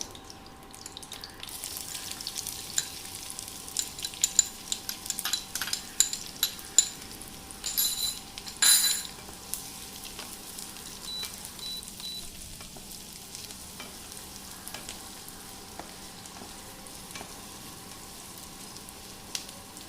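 Onions frying in oil with whole garam masala for a mutton doi roast, a steady low sizzle broken by intermittent spatula scrapes and clinks against the pan, with no talking.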